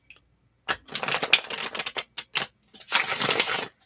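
Tarot cards shuffled close by in a run of crisp riffling bursts, several short rustles and then a longer sustained riffle, with no talking.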